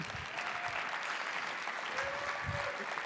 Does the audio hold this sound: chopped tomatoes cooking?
no